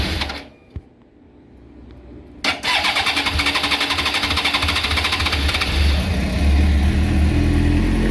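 A carbureted 2000 Suzuki GSX 600 R supersport motorcycle cranks on choke with the clutch pulled, after a quiet click and a brief starter whir, then catches into a loud, steady, slightly rising idle.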